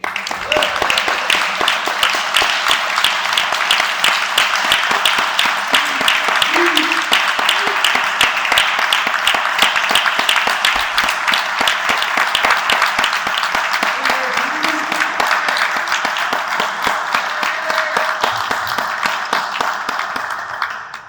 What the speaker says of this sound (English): Let's give a round of applause for Mayor-elect Ed Gaines